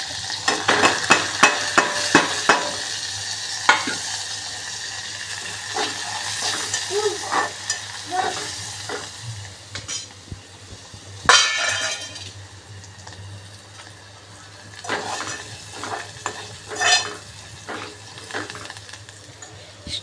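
Pasta is stirred with masala and coriander in a frying pan. A spoon scrapes and clatters in irregular bursts over a continuous sizzle, with a low steady hum underneath.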